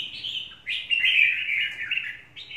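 A caged red-whiskered bulbul (chào mào) sings bright, clear chirps and warbled phrases, close and loud, in a continuous run with short breaks and no talking.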